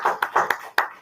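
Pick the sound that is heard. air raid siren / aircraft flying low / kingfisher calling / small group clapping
small group clapping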